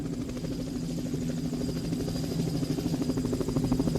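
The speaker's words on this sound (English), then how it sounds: "Now we have the helicopter." Helicopter effect from a rock album, a steady rotor thrum with rhythmic chopping that swells gradually louder over the span, heard alone without talk.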